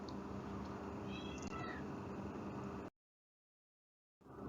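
A cat meows amid steady background hiss, with a couple of short meow calls near the middle before the sound cuts off to silence and briefly returns.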